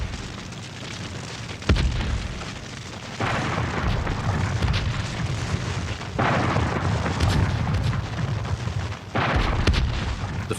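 Heavy cannon fire from Confederate forts aimed at the Union fleet, deep booms at intervals of about three seconds over a constant rumbling roar, loud and without talk.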